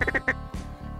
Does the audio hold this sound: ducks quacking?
yes